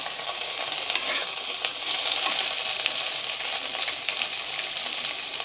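Ginger, cashews and split green chilies fry in a pan, producing a loud continuous sizzle with scattered pops and crackles throughout, close up and without talk.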